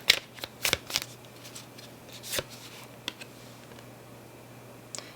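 Tarot cards being shuffled by hand in a few quick riffling bursts separated by pauses, close and fairly quiet, with small taps between them.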